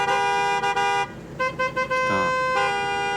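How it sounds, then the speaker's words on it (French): A car horn blares nearby in long, loud honks with a few brief breaks, sounding over low background traffic. "il veut klaxonner, je le laisse faire"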